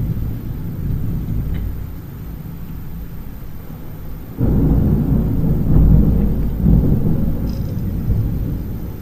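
Engine drone from the free racing game s308 played on a Cubot S308 smartphone: a steady, rumbling car roar that swells louder about halfway through and stays heavy to the end, with no voices.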